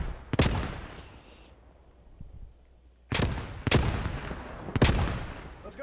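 Grenades explode and guns fire in a squad-based military video game: a sharp blast at the start, a quiet lull, then several more loud bursts of explosions and gunfire in quick succession.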